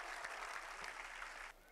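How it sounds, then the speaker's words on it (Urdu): An audience applauds to welcome Maulana Huzaifa Vastanvi, a short burst of steady, dense clapping that drops off toward the end. "تو زوردار تالیوں سے استقبال کریے مولانا حذیفہ وستانوی صاحب کا"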